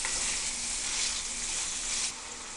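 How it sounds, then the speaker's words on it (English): Beef chunks browning in a pan with bacon for a stew, giving a steady, fairly loud close sizzle that fills the whole stretch and drops slightly at the end, with no voices. "you want to brown the meat on all sides"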